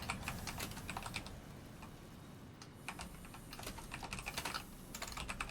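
Quick bursts of keystrokes clatter on a computer keyboard, close and fairly quiet, with short pauses between runs of typing and no voices.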